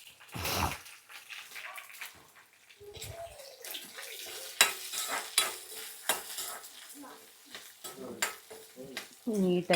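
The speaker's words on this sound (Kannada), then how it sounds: "ನೀಟಾಗಿ ಫ್ರೈ ಆಗ್ತಾ ಇದೆ" Coriander, cinnamon, cloves, pepper and cumin fry in oil while a spoon stirs them, giving irregular scraping bursts and soft sizzle that rise and fall, with louder clatter toward the end.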